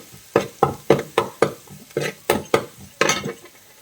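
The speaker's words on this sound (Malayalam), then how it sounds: "നമ്മൾ ഇഞ്ചി വെളുത്തുള്ളി ചേർത്തിട്ട് നന്നായിട്ടൊന്ന് വഴറ്റിയെടുക്കാം" Ginger and garlic sautéing in a pan for a Kottayam-style duck mappas, with a rhythmic series of loud, close scraping strokes from a spoon against the pan over a low sizzle, no talk.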